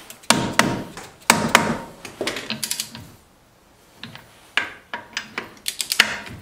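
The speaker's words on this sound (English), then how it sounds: "I'm just doing the initial tightening first." A ratchet wrench tightens front brake bolts on a 2005-2010 Jeep Grand Cherokee WK, loud close clicking in quick bursts with a short pause partway through before the ratcheting resumes.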